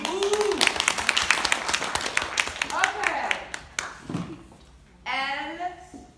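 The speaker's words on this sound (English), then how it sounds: "Classe, applaudissez-vous." A French language class applauds itself, a burst of clapping mixed with children's voices and a teacher talking, fading out before a short spoken phrase at the end.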